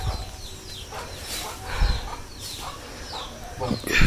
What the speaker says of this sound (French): voilà une poule qu'on a oublié de fermer